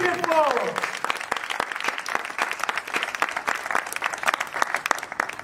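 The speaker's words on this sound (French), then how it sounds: "Applaudissez très fort." An audience at a New Year greetings ceremony for president Gabriel Mokia applauds him with dense, sustained clapping. A brief voice comes first, then crisp scattered claps pile up steadily until the end.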